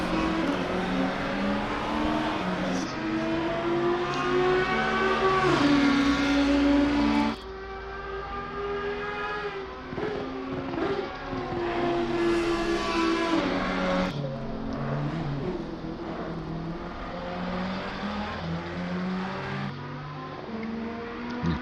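Race cars drive at Imola in a racing video game, the engine notes loud and sustained with revving shifts and passing whooshes, the sound dropping suddenly partway through before continuing steadily.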